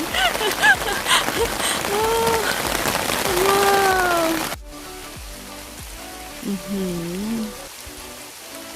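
Rain falls steadily on a heathland flower field beside a pine forest in Limburg, Belgium, a dense hiss under a woman's speech and a brief exclamation, then turning quieter and softer partway through.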